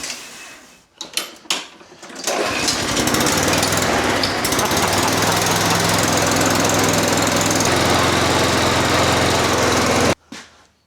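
A lawn mower with a dirty air filter and a worn pull cord rattles through a few pull attempts, then starts and runs loudly and steadily for about eight seconds before cutting off abruptly.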